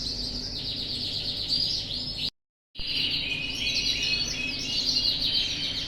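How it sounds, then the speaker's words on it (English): Canaries sing steadily in a breeding room, a dense overlapping chorus of trills and chirps that is close and continuous, broken by one brief silent gap, with no talk. "This is my canary room and today I wanna show you some of my breeders"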